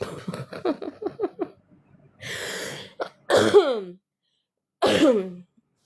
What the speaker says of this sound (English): Oh my God, why am I coughing?